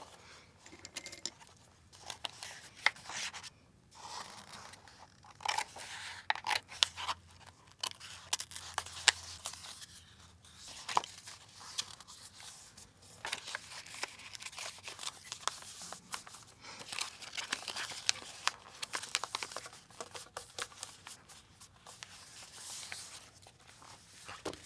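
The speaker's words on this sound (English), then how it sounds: "cut along the dotted lines and fold along the solid lines to make an envelope" Scissors snip through paper along dotted lines to make an envelope, giving soft, intermittent cutting and rustling sounds close by over a long stretch, with no talking.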